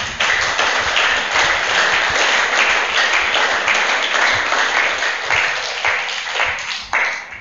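A congregation at a church sermon applauds, a dense, steady clapping that fills the space loudly for several seconds before tapering slightly at the end.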